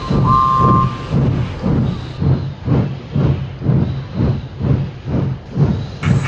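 A steam locomotive puffs in a steady, evenly spaced rhythm, with about a dozen loud chuffs coming close and repeating without pause and no voices over them.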